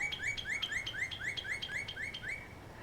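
An unidentified bird chirping outdoors, repeating a short rising tweet about ten times at a steady quick rhythm, clear over a soft background hiss.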